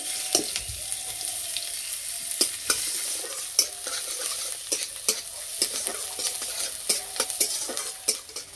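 Onions fry with dried red chilies and five-spice in mustard oil in a kadai, a soft steady sizzle broken by repeated sharp scrapes and taps of a spoon stirring against the pan.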